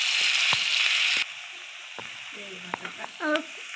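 Chopped onion dropped into hot oil, giving a loud, dense frying hiss that cuts off abruptly, followed by quieter clinks and a few tonal squeaks of utensils.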